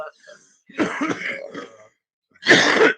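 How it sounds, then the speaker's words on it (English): A person clears their throat and coughs a few times nearby, with short harsh bursts separated by pauses, then one final louder cough. "Sorry, I had to cough."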